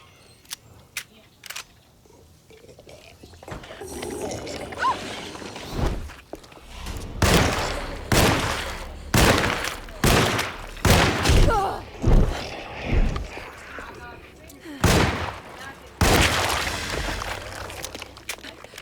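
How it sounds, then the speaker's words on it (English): Gunshots from the survival horror game Alone in the Dark, a string of loud, sharp blasts, six or so fired in quick succession with a few separate ones, over quieter ambience and some game dialogue. "My God, I took 6 shots to kill that one."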